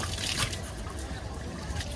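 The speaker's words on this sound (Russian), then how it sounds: "Пулпулаки — это фонтанчики питьевые городские." Water trickles softly and steadily from a public drinking fountain on a city street in Serbia, a faint continuous splashing over quiet outdoor background noise.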